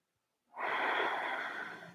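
A single deep breath drawn in yoga practice, starting after a short silence and holding as a long, airy rush close up, with no talking.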